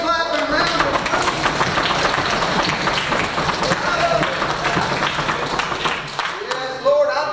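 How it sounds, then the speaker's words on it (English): A congregation at a contemporary church worship service claps and stomps in a loud, steady wash of sound, with a preacher's excited voice mixed in over the top. "let's give Him a foot stomping, hand clapping round"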